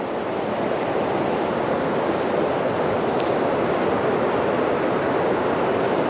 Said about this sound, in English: Sort of weirs and waterfalls.